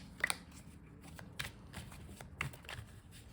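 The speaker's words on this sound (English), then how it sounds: "So we are just shuffling a bunch of times until the feeling comes over me" Soft riffling bursts of tarot cards being shuffled, a few quick crisp flutters spaced apart over a quiet background, close and fairly faint.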